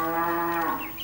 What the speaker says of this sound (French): c'est le meuglement d'une vache